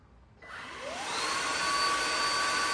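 A Samsung Jet 90 cordless stick vacuum switches on from a quiet room and spins up into a loud, steady motor whine with a rising tone that settles into a constant high-pitched roar.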